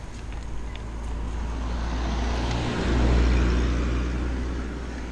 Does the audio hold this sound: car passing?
yes